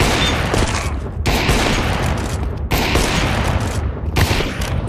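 Counter-Strike gunfire in a one-on-one match: loud, close bursts of rapid automatic shots in several volleys separated by brief gaps.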